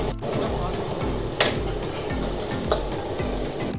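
Kadai paneer gravy with onion, garlic, ginger and chili is stirred and fried in a wok at a street dhaba in India, a steady close sizzle with scraping strokes and a couple of sharp clanks.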